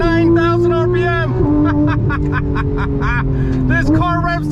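Porsche GT3 engine revving hard toward 9,000 RPM, loud and near, the pitch holding high then stepping through a shift, while someone talks excitedly over it.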